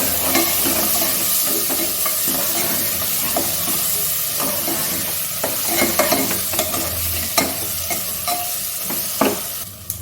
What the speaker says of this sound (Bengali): মশলাটা যেহেতু গুঁড়ো মশলা ওই জন্য মশলাটা কষা ভালো হবে।